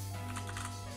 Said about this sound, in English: For the address, you type in sf.